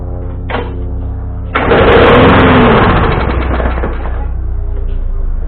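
A push lawn mower engine, long unused, catches and fires on starting fluid after a weak lead-in, running loud and close for about two seconds before settling into a steady rougher idle, fairly quiet at the muffler.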